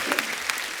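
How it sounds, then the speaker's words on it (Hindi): A studio audience at a comedy talk show claps, a brief, dense burst of applause at steady loudness with no voices over it. "इनके लिए जोरदार ताली हो जाए यार।"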